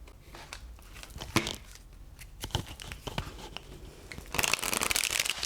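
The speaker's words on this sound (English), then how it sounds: "I don't think I ever shuffled these that way." A deck of tarot or oracle cards being shuffled by hand, with soft riffling and sliding close by, building to a louder burst of fast riffling near the end, with no talk.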